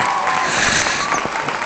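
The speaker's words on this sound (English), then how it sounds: "Let's have a nice round of applause for a very funny young woman, Shirley Feckler." A crowd claps and cheers steadily, a dense wash of applause with scattered whoops, fairly loud and close throughout, from a comedy club audience in the video game Don't Quit Your Day Job.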